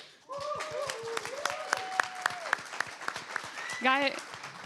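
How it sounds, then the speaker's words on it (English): A crowd at a CTF cybersecurity event gives a steady round of applause throughout, with a voice speaking over the clapping. "to do a very loud round of applause for our audience today"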